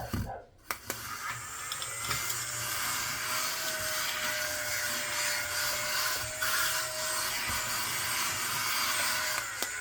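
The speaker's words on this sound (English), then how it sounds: "Okay, I'm going to vacuum real quick." A vacuum cleaner runs steadily nearby, a continuous whirring, rushing drone with slight scraping variations and no talking.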